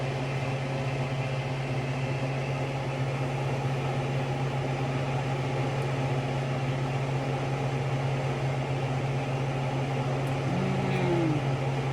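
A microwave oven runs with a steady, close electrical hum and fan drone while warming tortillas, continuous and unchanging throughout, with no talking.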